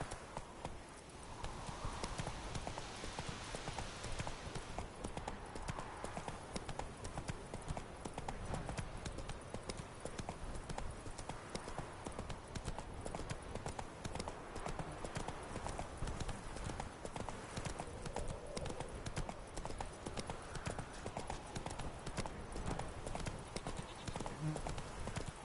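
Hooves of Roach, the horse in the video game The Witcher 3, clip-clop in a steady walking rhythm, close and continuous, with occasional speech over the top.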